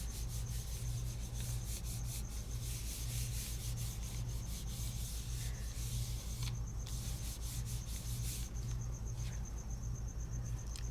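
A hand rubs steadily back and forth across the back of a rubber craft stamp pressed onto paper, giving a soft, rhythmic, close-up friction sound with no talking.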